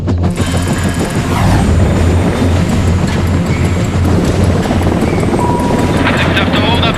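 A helicopter holds a hover with its engines at full power over the ocean, producing a loud, continuous rotor and turbine roar with rhythmic low throbbing and occasional mechanical clanks, while a voice speaks over it.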